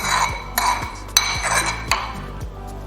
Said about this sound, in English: Now let's give that a stir and see where our flavor is at